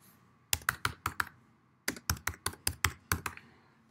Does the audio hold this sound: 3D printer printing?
no